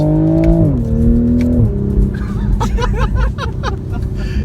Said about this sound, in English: It has an inline 6 that's turbocharged like everybody wanted.